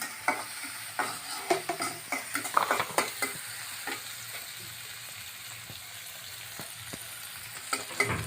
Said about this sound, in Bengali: পেঁয়াজগুলো ভাজা হইতেছে